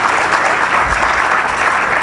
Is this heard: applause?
yes